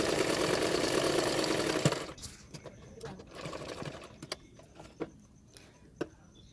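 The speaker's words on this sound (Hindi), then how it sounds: "उसके ऊपर मैं और एक सिलाई डाल दूंगी।" A sewing machine stitches a hook strip onto a blouse in a steady, loud whirring run for about two seconds, then stops, leaving only faint scattered taps and handling noises.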